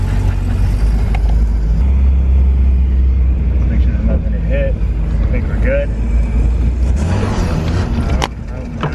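A 1.6-litre Mazda Miata race car with a short-throw shifter and welded header drones loudly and steadily from close up, a raspy engine rumble running throughout while people talk over it.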